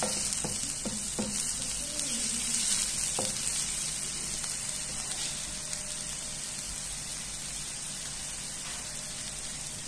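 Onion and garlic frying in a little oil for a sauce, a steady close sizzle with a few soft stirring knocks early on, no talking.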